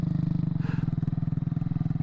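A Honda CT70 chopper minibike engine runs at a steady idle, a close, even low-pitched putter with a rapid regular pulse and no voices.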